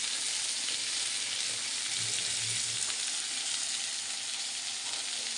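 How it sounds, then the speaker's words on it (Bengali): Hilsa fish head fries in hot oil in a pan, giving a steady, dense sizzle that holds evenly throughout with faint stirring underneath and no voices. "আর একটু ভাজা হবে, ভাজা হলে আমি মশলাগুলো অ্যাড করে দেবো"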